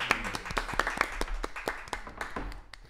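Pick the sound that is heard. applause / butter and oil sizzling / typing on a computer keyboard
applause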